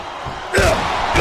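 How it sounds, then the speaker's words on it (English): Crowd cheering in the WWE SmackDown vs Raw 2008 wrestling video game, a low murmur that suddenly swells into a loud, roaring cheer partway through and holds there. "Now the fans start to cheer for him."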